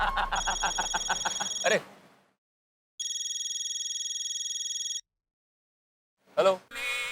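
A telephone rings with electronic tones: first a rapid pulsing trill, then a steady high ring lasting about two seconds after a pause. A short vocal exclamation follows.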